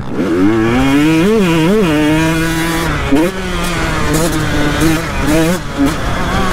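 A 2023 KTM 125 SX fuel-injected motocross motorcycle engine drones steadily close up, its pitch swinging up and down as the throttle changes, while someone talks over it throughout.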